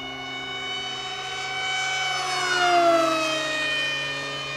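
An FF-Demon RC plane on a 3S LiPo setup makes a high-speed pass, a steady high-pitched motor and propeller whine that rises in pitch and loudness as it nears, then falls away, heard alone.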